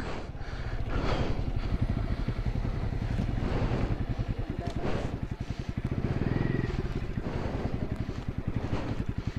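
A motorcycle engine idles and runs steadily close by on a hill road between Maredumilli and Gudisa, a continuous throbbing rumble with wind noise buffeting over it.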